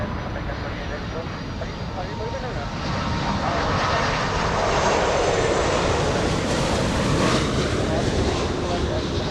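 A Philippine Airlines Airbus A330 from Seoul lands at Los Angeles International, a steady jet roar that swells slightly midway with a whining engine tone, a voice talking over it.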